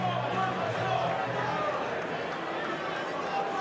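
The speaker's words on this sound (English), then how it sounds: "the crowd are going mad here" A crowd roars and cheers in a dense, sustained wash of noise at a Mosconi Cup pool match, with a commentator talking over it.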